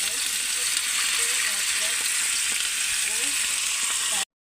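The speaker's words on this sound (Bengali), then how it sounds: "আলু আর বিটটাকে ভাজা হয়ে গেলে তোমাদের দেখাবো আমি আর কী কী দিচ্ছি" Potato and beetroot frying in a pan, a dense, even sizzle held at steady loudness for a few seconds before cutting off abruptly.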